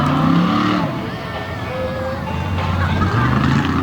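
Loud truck engines roar and rev continuously at a tough truck racing event, with a crowd-like wash and an announcer-style voice talking over the motor noise.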